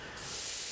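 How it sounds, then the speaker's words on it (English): In the Spirit Hunter: Death Mark video game, a handheld sprayer fires a drug at a beehive: a sudden, steady hiss that starts abruptly and holds at moderate loudness. "I carefully take aim and spray the drug."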